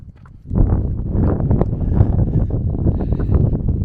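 Loud, steady wind buffeting the microphone at a canyon, a heavy roaring rumble that rises suddenly after a brief quieter moment and continues unbroken.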